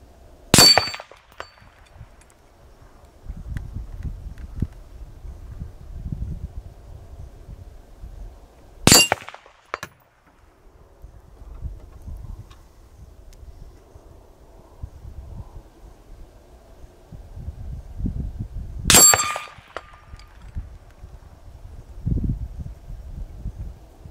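A rifle with a 20-inch SOTA upper fires at a steel target 200 yards away outdoors at dusk, giving three sharp, loud reports spaced several seconds apart over a low windy rumble.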